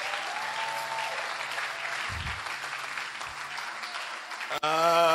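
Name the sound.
congregation applauding and acclaiming the Lord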